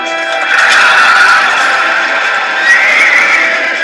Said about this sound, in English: The horses raced out into the hippodrome, nearly 800 meters long.